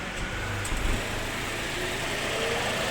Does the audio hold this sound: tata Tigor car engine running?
yes